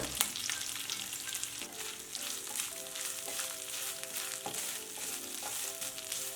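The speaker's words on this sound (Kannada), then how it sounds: "ಕಾಯಿ ತುರಿ ಸ್ವಲ್ಪ ಫ್ರೈ ಆಗಲಿ" Grated coconut frying in a pan with spices for chow chow chutney, a continuous close sizzle and crackle with occasional spatula stirs and scrapes.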